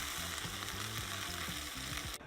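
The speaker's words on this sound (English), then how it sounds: "Let the meat completely cook through." Ground meat for a keto Cornish pasty frying in a pan gives a steady, faint sizzle with soft rhythmic scraping of stirring throughout, alone without any voices.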